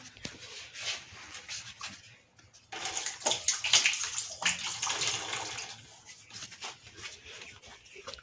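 Hands washed under running water in a rural Gujarati home, a steady splashing and rubbing that swells in the middle and tapers off, with faint background noise and no talk.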